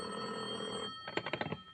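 A telephone bell in a 1950 radio drama rings in a short burst of rapid clattering strikes after a quiet, hissy lead-in, fairly close and heard alone.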